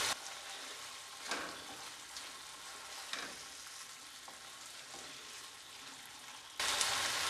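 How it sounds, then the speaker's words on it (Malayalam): Sweet and spicy pineapple pickle mixture sizzles steadily in a hot pan while a spoon stirs it, with a few soft scraping strokes over the constant frying hiss. "എല്ലാം കൂടെ നന്നായിട്ട് മിക്സ് ചെയ്ത് കൊടുക്കുക"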